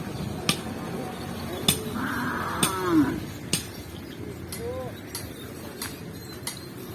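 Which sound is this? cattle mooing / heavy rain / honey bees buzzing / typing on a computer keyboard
cattle mooing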